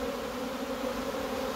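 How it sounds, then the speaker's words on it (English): Honey bees swarm around their hives at a heather site, filling the air with a steady, close, dense buzzing drone that never lets up. "it's just quite amazing how many bees there are at the moment"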